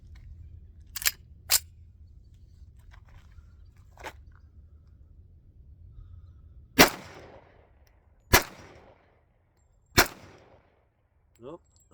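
A 1911 pistol fired at a steel plate at an outdoor range: six sharp, loud shots spaced a second or more apart, some followed by a brief ring or decay, over faint background noise.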